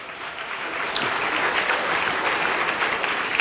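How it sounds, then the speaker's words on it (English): An audience at a leadership talk claps steadily, a moderately loud, continuous wash of hand claps with no voices over it, holding level for a few seconds. "Come on, clap"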